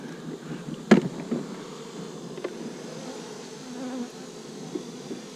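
Honeybees hum around an opened hive during a Florida fall bloom, a steady close buzz with individual bees zipping past the ear and a sharp knock of hive parts near the start.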